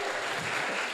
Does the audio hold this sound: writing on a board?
no